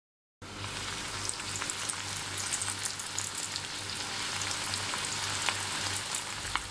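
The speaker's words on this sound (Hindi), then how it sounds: "तेल गरम हो गया है, अब हम इनमें ब्रेड के टुकड़े डालेंगे।" Bread pieces frying in hot oil over high heat for shahi tukda, a steady close crackling sizzle that starts abruptly and continues unbroken, with a low hum underneath.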